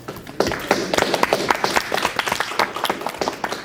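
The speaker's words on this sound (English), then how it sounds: "Please give yourself a round of applause." Student government meeting audience applauds volunteers with a brisk round of clapping that starts after a brief pause and continues steadily, close and moderately loud.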